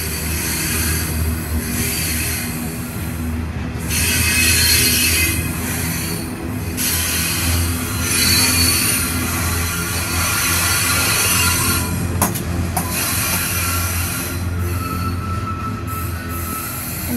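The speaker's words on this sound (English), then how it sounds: "Here comes the train end." A train rolls past on the rails, loud and close, with a continuous rumble and high metallic wheel squeals rising and fading throughout.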